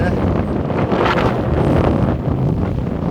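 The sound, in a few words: strong wind on a beach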